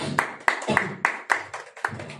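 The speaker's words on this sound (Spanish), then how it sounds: "Denle un aplauso al que vive." Church congregation clapping during a sermon, a short burst of distinct, fairly loud hand claps in an even rhythm, mixed with faint voices.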